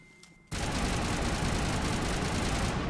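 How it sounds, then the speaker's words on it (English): Gunfire in the video game Mass Effect begins abruptly after a quiet moment and becomes a dense, continuous burst of rapid automatic fire that stays loud and unbroken to the end. "Shoot a gun real quick."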